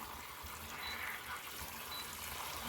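Steady running water from a tap while bok choy is rinsed clean in a kitchen, a continuous hissing splash with no break, close and fairly loud, no voices.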